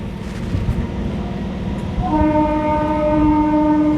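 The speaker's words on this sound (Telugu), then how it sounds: "గుడ్లవల్లేరు నుంచి కూడా మన ట్రైన్ అయితే బయలుదేరిపోయింది." An Indian Railways MEMU express train pulling out of a station, its steady rolling rumble joined partway through by a long, loud sustained horn blast that holds to the end.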